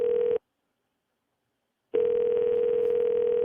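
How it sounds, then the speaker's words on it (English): A telephone ringback tone plays while a phone call connects: two long, steady electronic tone bursts separated by a silent gap, fairly faint and with no voices. "Please wait while your call is being connected."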